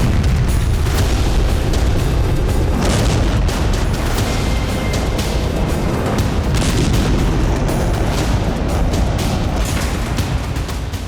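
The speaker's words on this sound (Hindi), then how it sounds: "पुतिन ने सबसे विनाशक मिसाइल के सफल परीक्षण की घोषणा कर दी है।" A sustained, heavy roaring blast from a Russian missile test launch rumbles continuously with loud, dense low-end power and crackling bursts throughout, steady and overwhelming without pauses or voices.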